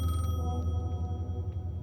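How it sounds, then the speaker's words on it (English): A payphone rings in Alan Wake II with a steady, sustained electronic ring tone over a low hum, loud and close and without pause. "Payphone is ringing."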